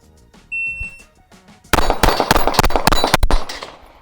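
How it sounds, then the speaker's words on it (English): A timer beep, then a rapid string of sharp gunshots from an S&W Bodyguard .380 ACP pistol with an optic, fired at steel targets; loud close cracks come in quick irregular succession with faint metallic rings. "These are the first shots through the gun."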